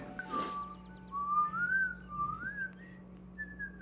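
A person whistles a short wavering tune, thin sliding notes in several phrases, close and clear over a quiet room hum.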